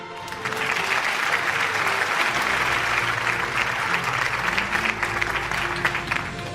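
A full crowd at the City News Network Annual Award Show 2025 applauds an award recipient, steady dense clapping that swells within the first second and carries on evenly to the end.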